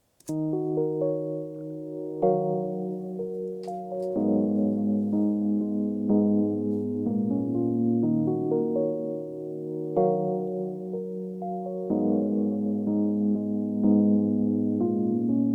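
Reversed ambient chords layered with the original keys in a beat, sustained harmonic chords shifting every couple of seconds, with swelling reversed textures and echo-like effects, steady and full with no talking.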